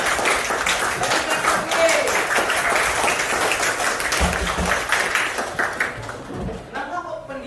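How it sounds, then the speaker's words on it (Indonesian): An audience claps together in a continuous, dense burst of applause that holds steady, then thins out and fades near the end, fairly loud and filling the room. "Kasih tepuk tangan untuk kita semua."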